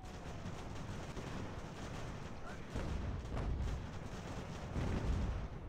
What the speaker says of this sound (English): Fire a volley, quick.